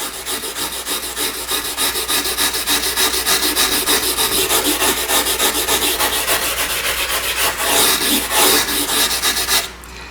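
Tile grout scrubbed by hand without chemicals, a steady, close, rhythmic rasping scrub running continuously at even strength, with a brief louder burst near the end before it drops away.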